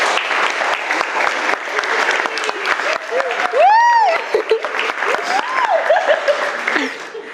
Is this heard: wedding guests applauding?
yes